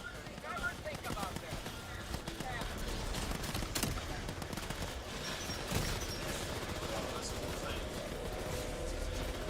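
A hand cannon fires repeatedly in the game Tower of Fantasy, with dense rapid gunfire and impacts in a busy battle mix while a voice talks over it.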